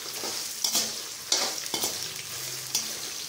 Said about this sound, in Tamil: இந்த பூண்டு, இஞ்சி, இந்த வரமிளகாயெல்லாம் சேர்த்து வதக்கும்போது